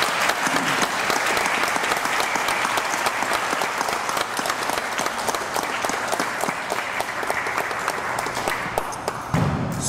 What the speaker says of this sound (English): a big, big round of applause for Mrs. Lyons